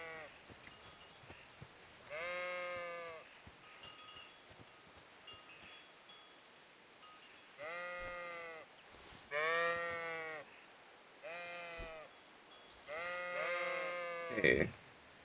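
Sheep bleat repeatedly in the village of Skalitz in Kingdom Come: Deliverance. Six or so wavering calls arrive at irregular intervals, fairly close and clear over a quiet outdoor backdrop, with one sharper burst at the end.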